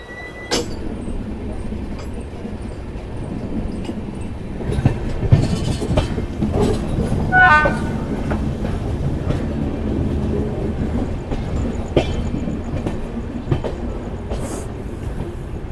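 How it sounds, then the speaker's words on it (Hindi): The Lal Kuan Amritsar Express rolls into Saharanpur, heard from on board as a steady rumble with clickety-clack wheel beats, a brief screech of metal partway through, and light rattling, close and continuous. "और अभी हमारी ट्रेन फ़िलहाल सहारनपुर में एंट्री ले चुकी है"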